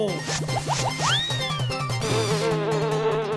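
Cartoon bees buzz around a beehive in a steady insect drone, mixed with sliding whistle-like tones and bright effects, with no talking.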